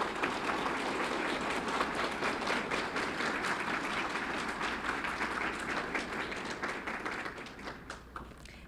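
An audience at a Fort Worth ISD school board meeting applauds honorees from Western Hills High School, a dense, steady wash of clapping that holds for several seconds before thinning toward the end.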